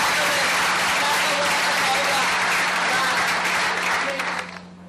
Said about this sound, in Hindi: जोरदार तालियां का स्वागत